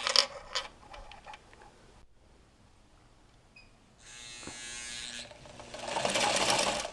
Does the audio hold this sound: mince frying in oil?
no